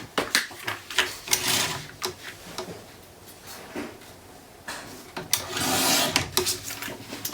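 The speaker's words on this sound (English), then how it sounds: "I'm going to put this in the trimmer and trim it off so that it's tucked behind that" A paper trimmer cuts paper for a scrapbook inside cover, giving a series of close scraping, sliding clicks and a longer rasping pass of the blade.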